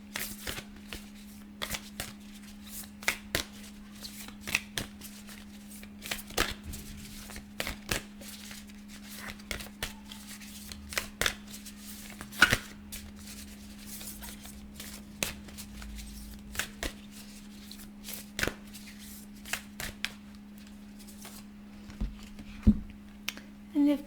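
A tarot card deck shuffled by hand at close range, with a long run of soft, regularly repeating riffles and snaps.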